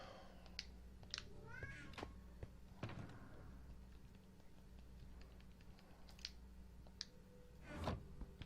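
A house cat meows repeatedly, short rising cries scattered across several seconds, moderately near but fairly quiet, over a low steady hum with faint clicking.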